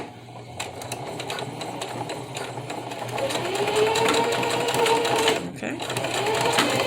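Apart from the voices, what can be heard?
sewing machine sewing a zigzag stitch on a face mask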